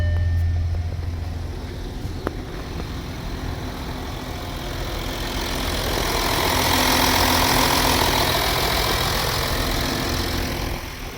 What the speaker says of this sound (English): Now the car's running.